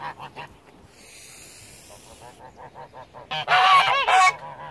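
Homestead geese honk repeatedly in a close, noisy flock, with rhythmic calls building to a loud burst of honking near the end.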